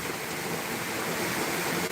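Heavy rain pours down during a Kalbaishakhi storm, making a dense, even hiss that fills the whole moment without breaks; no voices are heard.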